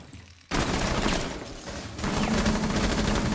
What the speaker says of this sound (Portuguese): Gente, que tiroteio do caralho.